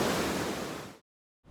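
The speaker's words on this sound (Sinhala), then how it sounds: "ජෝඩු ඇල්ල තමයි මේ මට පිටිපස්සෙන් පේන" Jodu Ella, a twin waterfall in Sri Lanka, gives a broad, steady roar of falling water for about a second. Then it cuts to silence before the rush briefly returns.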